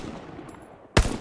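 Automatic weapon gunfire in the World War II shooter Hell Let Loose, a sudden loud burst arriving at the end after a stretch of low, quiet game ambience.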